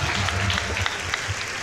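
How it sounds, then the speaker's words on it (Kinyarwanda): A church congregation claps together in a dense, steady burst of applause, with a voice faintly audible under the clapping. "mutanga amashyi ku Mana"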